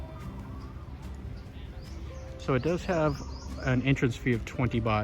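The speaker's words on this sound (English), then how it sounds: "You can walk around, hear the birds chirping." Birds chirp and pigeons coo in the grounds of Wat Yai Chai Mongkhon, a Thai temple in Ayutthaya, a soft steady backdrop heard under someone talking close by.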